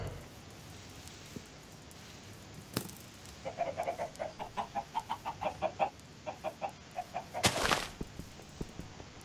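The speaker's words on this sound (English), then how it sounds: "Which chicken is it?" Chickens clucking in the Minecraft Block Hunt game, a rhythmic series of short, fairly close clucks with a couple of sharper squawks, over faint background noise.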